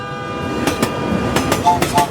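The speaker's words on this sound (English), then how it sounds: "The train is coming fast!" Train horn blasts from an approaching train near the tracks, several short sharp honks in quick succession over a steady rumble, fairly loud and close, with no one talking.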